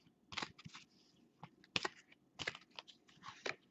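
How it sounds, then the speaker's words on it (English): A deck of tarot cards being shuffled by hand, heard as irregular bursts of soft crisp riffling and tapping, close and fairly quiet, with no talking. "as I shuffle the deck"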